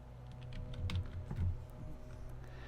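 Brief, soft clatter of keys on a computer keyboard as channel names are typed into a search field, a quick run of keystrokes heard faintly in a quiet room.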